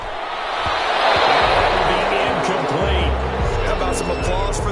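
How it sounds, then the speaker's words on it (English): A stadium crowd in the Madden 21 football video game roars and cheers for the defense after a third-down stop, a broad, loud wash of noise that swells and holds, with low thuds underneath. "Some applause for the defense there"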